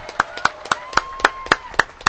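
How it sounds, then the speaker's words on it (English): A single pair of hands claps slowly and evenly for a student at a school presentation, about eight crisp, close claps in a steady rhythm over a faint tone. "Round of applause for Nathan"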